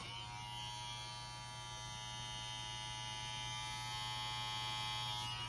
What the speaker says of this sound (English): Still a quiet clipper, but in that video, it made it seem like it made no noise